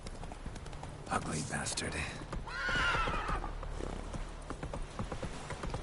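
Geralt's horse Roach in The Witcher 3 whinnies and its hooves clip-clop at a run, a loud neigh in the middle over steady hoofbeats, with someone talking over it.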